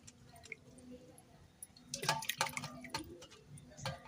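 Fish are rinsed by hand in water in a home kitchen. After a quiet start, soft splashes, drips and wet squelches follow, faint and close.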